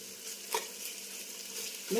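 Whole spices sizzle in hot oil in a pan for paneer pulao, a steady soft fry with a brief stir clatter midway and another near the end, no talking.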